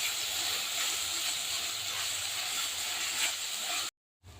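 Curry leaves and green chillies fry in oil with a steady, bright hissing sizzle at moderate level, ending in abrupt silence.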